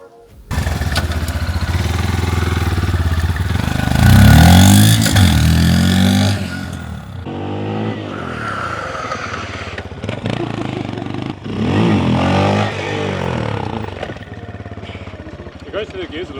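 A Stomp Papio pit bike, geared down by one sprocket tooth, is ridden through the gears close by, its small engine revving up and shifting in repeated rising surges, with people talking over it.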